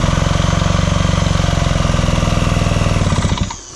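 Pioneer 550 chainsaw engine revved to higher RPM, a loud, steady, fast-pulsing two-stroke drone up close that cuts out abruptly near the end.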